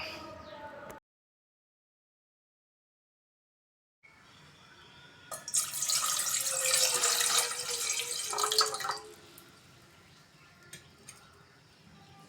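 Water pours from a glass into a cooking pot, making a bright splashing gush for a few seconds after a short pause, then settling to quieter trickles and clinks.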